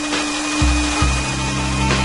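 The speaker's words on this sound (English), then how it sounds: "Like a power drill, which Carrie claims to have found in the wreckage." A power drill salvaged from wreckage whirs steadily up close, its motor note shifting pitch in short surges as it runs continuously with no voices.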